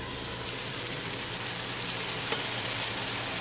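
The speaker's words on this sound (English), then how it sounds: "Cover with the lid, and we'll cook it for 3 minutes" Chicken breast curry with tomatoes cooking in a covered pan over medium gas, giving a steady, even sizzle and soft bubbling hiss that holds at a constant level, with one faint tap partway through.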